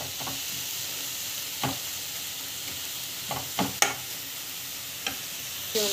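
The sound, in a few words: sautéing ingredients in a pan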